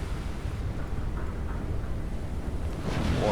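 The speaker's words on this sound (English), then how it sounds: "Water is starting to run up on the deck." Water washes over the deck of a sinking tanker in the naval video game Battleship Command, a steady low rushing wash with a faint rise toward the end.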